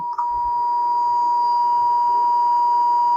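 One continuous, loud, high bleep tone runs unbroken throughout, masking whatever is said beneath it.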